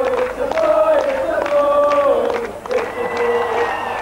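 A large crowd outside the palace on a June evening in 1982 cheers and shouts loudly, with scattered clapping and raised voices in a continuous, dense roar.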